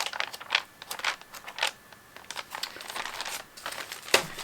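Sheets of scrapbook paper are handled and shuffled, giving irregular crisp crinkles and rustles close by, with a sharper crackle near the end.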